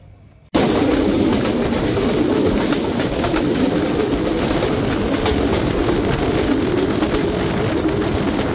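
The Sundarban Express pulls into Kotchandpur railway station with a loud, sustained rumble and clatter that starts abruptly and carries on without a break.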